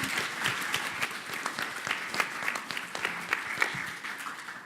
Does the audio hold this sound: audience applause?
yes